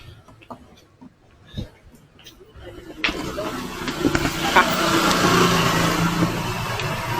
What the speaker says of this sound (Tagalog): Puro mga SUV na malalaki.